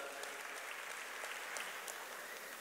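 Audience applause at a primary health care meeting, a steady wash of many hands clapping heard at a distance, faint and continuous without a clear start or finish.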